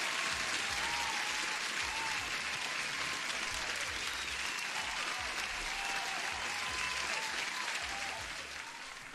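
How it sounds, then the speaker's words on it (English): Applause from a live audience, a dense, continuous clatter of clapping held at an even level for several seconds before easing slightly at the end, with a faint low thumping underneath. "You guys deserve an applause again."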